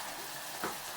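Steady hissing sizzle of sausages frying in a pan, with a brief louder crackle partway through.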